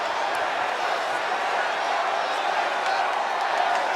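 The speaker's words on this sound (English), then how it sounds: "The crowd here anticipating a real dust-up." A wrestling arena crowd at a televised event keeps up a steady, distant roar of cheering and chatter with scattered whoops, a constant wash of noise behind the commentary.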